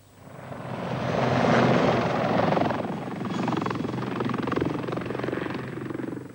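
An army helicopter flies nearby, its rotor thumping and engine roaring in a steady wash that swells and fades slightly, with no voices.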